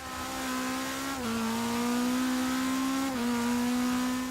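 A 2016 Subaru WRX STI rallycar races a rallycross build in Forza Horizon 3, its engine a loud, steady high-revving drone that dips briefly at two gear shifts, with no talk.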